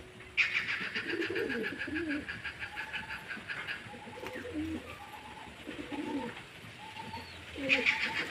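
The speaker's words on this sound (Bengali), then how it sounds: "পায়রা হাতের মধ্যে থাকছে না ছটফট করছে" A domestic pigeon held in the hand, restless and struggling, gives repeated soft, low coos close by over a steady background hiss, with no talking.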